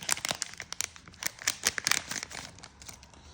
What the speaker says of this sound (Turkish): Test kitimizi buradan açıyoruz.